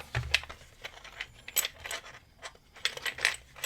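Metal keys jingle and clink in short, sharp bursts while being handled near a high-security aluminium padlock, with several close clattering rattles spread across a few seconds and quiet gaps between them.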